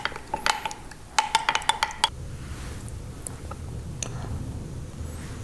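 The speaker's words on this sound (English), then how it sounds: "And stir away." Honey and mustard dressing being stirred in a bowl, a quick run of sharp metallic clinks of a utensil against the dish, then a softer swishing, quieter mixing continues.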